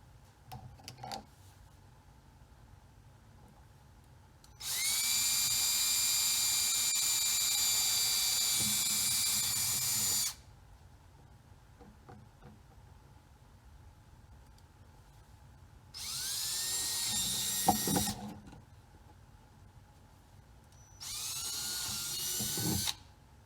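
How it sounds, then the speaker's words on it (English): A power drill bores holes for pop rivets in three separate bursts: a long, steady high-pitched whine followed by two shorter runs, with quiet pauses and faint handling noises between them. "Just drill 4 holes straight through, and then I'll show you how we put the pop rivets in."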